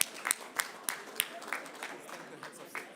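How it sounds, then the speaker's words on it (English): Audience at an Africa Day session clapping, loose uneven claps with distinct sharp hits that thin out and fade over a few seconds. "A big round of applause there."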